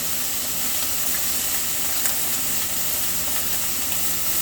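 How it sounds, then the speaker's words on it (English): A steak sears in a hot pan, its loud, dense sizzle hissing continuously and close up with no pauses. "Just drop it when it's hot. Let it sear one side."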